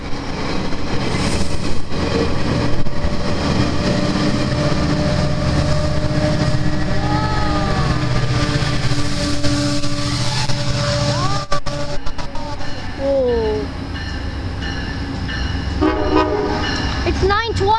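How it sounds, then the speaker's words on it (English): A GO commuter train rumbles loudly and steadily as it pulls away, with a horn sounding and metallic squeals rising over the continuous rolling noise. "This GO train will luckily be departing."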